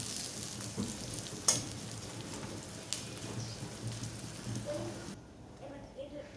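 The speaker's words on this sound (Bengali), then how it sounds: "পেঁয়াজগুলো ভাজা হতে থাকবে, এর সাথে কয়েকটা মরিচ দিয়ে দিলাম।" Chopped onion frying in oil with green chillies added, a soft steady sizzle with scattered stirring knocks, with low speech-like murmur in the background before the noise cuts off near the end.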